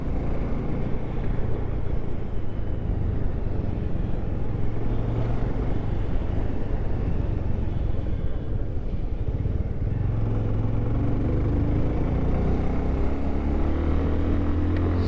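A deep, throaty motorcycle exhaust rumbles steadily and loudly, with the engine note swelling slightly as it revs, no talking.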